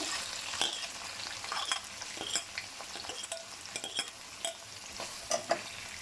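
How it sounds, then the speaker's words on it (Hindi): Three medium onions sauté in a pan, a steady broadband sizzle broken by frequent scrapes and clicks of stirring, close and fairly loud, with no voices. "इसको हम सौते करेंगे टिल देन, जब तक कि ये नरम ना पड़ जाए"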